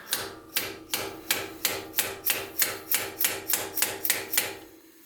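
A metal engine part is struck repeatedly to level it, roughly a dozen sharp, evenly spaced hammer blows ringing out close and loud with nobody talking.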